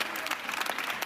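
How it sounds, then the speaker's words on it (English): A crowd of supporters applauding outside a courthouse as a woman leaves a trial: dense, continuous clapping, loud and close, with crowd murmur mixed in. "Leaving court to applause and admiration."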